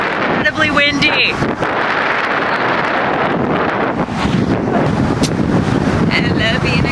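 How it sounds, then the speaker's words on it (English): Strong wind buffets the microphone beside a highway, producing a heavy, continuous roaring rumble with gusty surges, while brief faint voices sit underneath. "Incredibly windy."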